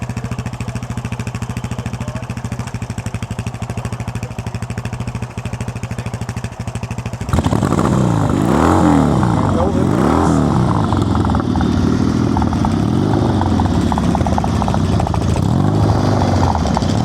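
A heavy vintage motorcycle at a steam fair idles with a rapid thumping putter, then is kicked over and revs, its engine note jumping louder and rising and falling in repeated throttle blips.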